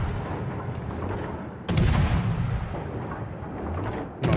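Heavy tank cannon shots in a video game, a sharp booming blast near the start and a big one midway, with a rumbling tail and another shot at the end over constant battle noise.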